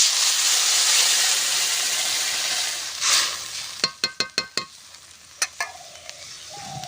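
Water poured into frying spice paste in a pan sends up a loud, broad steaming hiss that fades, followed by a quick run of sharp metallic taps and scrapes of a spoon against the pan.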